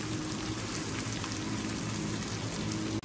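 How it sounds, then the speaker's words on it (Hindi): Half a kilo of mutton sizzles in a pan with a cooked-down masala paste, a steady dense crackling hiss that stays even and moderately loud from start to finish, with no voices. "मटन को अच्छे से हमने फ्राई करना है।"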